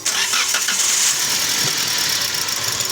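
A Toyota Vios with a dual VVT-i engine runs rough close by, a steady uneven rumble with a rattly, shaking edge and no voices.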